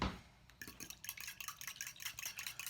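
A fork whisks a Dijon mustard mixture in a bowl, quick light clinking and wet stirring taps in an irregular rhythm, close and fairly quiet.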